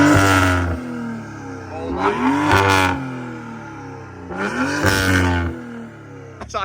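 BMW engine with an MHD tune revving hard, loud repeated rising revs in bursts with drops back between them, close to the car, with faint talk.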